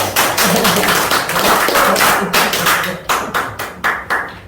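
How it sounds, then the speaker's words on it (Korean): Audience clapping at a Bible seminar lecture, loud and close, starting as a full burst and breaking into slower, rhythmic separate claps as it winds down. "자, 박수로."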